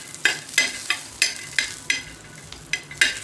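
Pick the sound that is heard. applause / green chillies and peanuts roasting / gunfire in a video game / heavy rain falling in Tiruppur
green chillies and peanuts roasting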